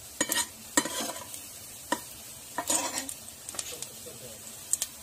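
Cumin seeds hitting hot oil in a pan while cooking hotel-style palak paneer, giving a few separate bursts of close sizzle and stirring scrapes with quiet gaps between them.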